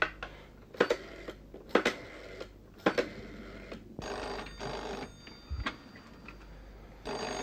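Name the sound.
telephone ringing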